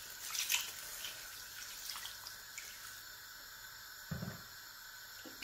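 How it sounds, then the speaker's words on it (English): Water pours from a tap into a pot while Nigerian white soup is being made, a steady faint running hiss with a few small splashes near the end. "So I'm going to add a little water to this."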